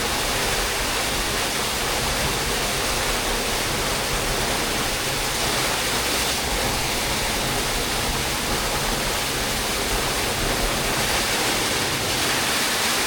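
A jungle waterfall at Hazarikhil rushes in a steady, loud, unbroken roar of falling water filling the whole scene, with no voices over it.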